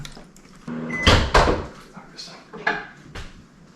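A microwave door is opened and closed in a home kitchen while mozzarella is being made, giving a couple of loud close clunks and clicks with some handling noise and faint voices around them.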